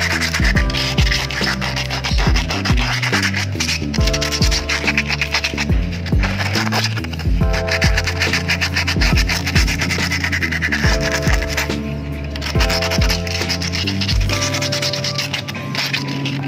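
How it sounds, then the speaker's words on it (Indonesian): Repeated rough scraping strokes of coarse sandpaper dipped in soapy water wet-sanding a motorcycle wheel rim, rhythmic back-and-forth rasping, close and continuous with no speech. "pakai amplas kasar yang dicelupin air sabun"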